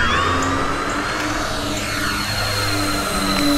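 An FMS Tigercat 1700mm RC warbird, an electric twin-engine model with flaps down, takes off with a steady, loud whine and buzz of motors and propellers that rises and shifts in pitch throughout. No one talks over it.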